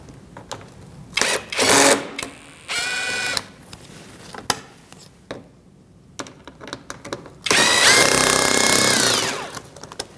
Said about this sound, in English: We're going to remove these bolts on this side with a 7mm socket.